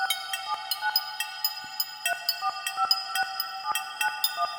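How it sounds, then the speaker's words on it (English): A steady electronic tone from a Moffenzeef synth module, much like a telephone dial tone, pulses in a quick repeating rhythm with bright clicky transients, with a filter applied. "it sounds exactly like a phone dial tone"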